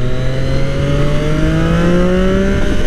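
A Triumph Daytona 675R motorcycle with an aftermarket exhaust accelerates hard, its loud engine note rising steadily in pitch through the gear, up close and with no voices.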